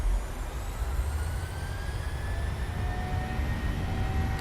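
Ryanair airliner engines in Microsoft Flight Simulator spool up toward takeoff power, a steady low rumble with a rising whine that climbs gradually over the few seconds.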